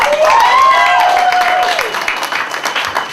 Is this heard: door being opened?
no